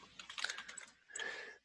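Computer keyboard keys pressed during a CAD sketching session, heard as two quick bursts of close, crisp clicks separated by a short pause, with no talking.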